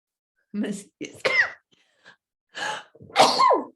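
A woman sneezes several times in quick succession, sharp close bursts separated by short pauses and breathy catches, the last sneeze the loudest, in an otherwise quiet room.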